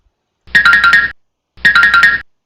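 Two identical short electronic alert chimes from chart trading software, each a rapid warbling ring lasting about half a second, separated by silence, loud and close.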